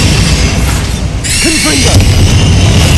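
A loud Bombarda spell explosion in Hogwarts Legacy, a single booming blast with a bright crackling burst and a short tail, played close with no talking.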